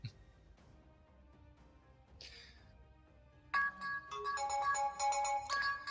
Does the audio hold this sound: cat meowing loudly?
no